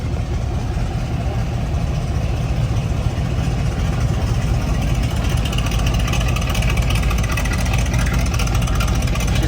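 A car engine idles loudly and steadily nearby, a continuous low rumble with no clear revs, as more vehicles roll in at a gathering around a 1991 Chevy Suburban.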